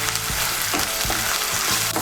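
Ginger, garlic and green chili paste frying in hot oil for cauliflower korma, a loud dense sizzle close up, with rhythmic scraping stirs every half second or so.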